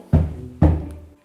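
Knocking on a wooden floor in a 1920s semi-detached house being renovated: two resonant, hollow thumps roughly half a second apart, heard close and fairly loud with nothing else.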